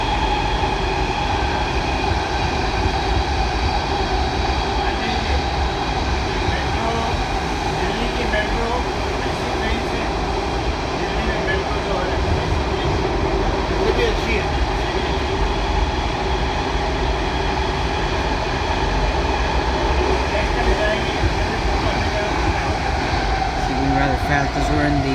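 A Washington Metro Kawasaki 7000-series train on the Red Line, heard from inside a car, gives a loud, steady rumble with a constant motor hum and track noise throughout, and faint voices underneath.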